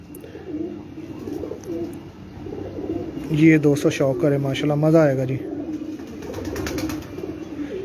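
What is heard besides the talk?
pigeons cooing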